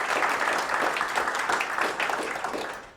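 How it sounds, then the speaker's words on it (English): Audience applause at an awards ceremony, a steady wash of clapping from a crowd that swells and then slowly fades over a few seconds. "Round of applause for them."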